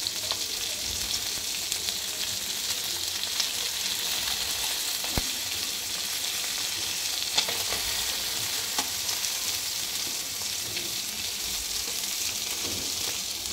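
Sarputi fish frying on a 38 cm tawa with very little oil, giving a steady, even sizzle with faint crackles and small pops throughout and no voices.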